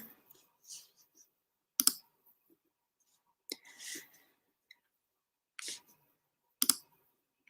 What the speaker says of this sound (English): make sure I'm clicking the right one here